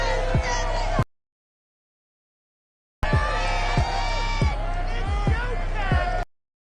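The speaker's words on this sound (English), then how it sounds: "This crowd enthusiastically cheering on their Texans as they emerge from the locker room" Stadium crowd cheering in an EA Sports NFL football video game, a loud sustained roar in two bursts separated by silence, with an announcer talking over it.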